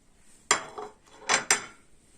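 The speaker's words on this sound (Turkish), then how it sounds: "Soğanla sarımsağımızı döküyoruz." Onion and garlic tipped into a pan for a Turkish beyti sarma recipe, heard as a few sharp clattering knocks against the metal: one strong hit, a softer one, then two more close together, with no talk.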